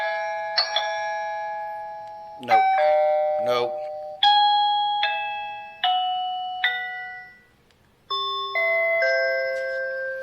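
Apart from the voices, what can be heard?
smart doorbell chime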